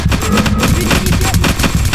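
Turrets firing rapid automatic bursts in the horror game Lost Rooms (Backrooms), dense and loud, with continuous gunfire throughout.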